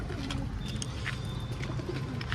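Soft, low cooing of pigeons layered over a murmur of background noise, several birds calling faintly but steadily.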